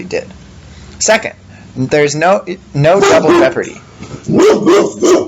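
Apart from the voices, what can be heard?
dog barking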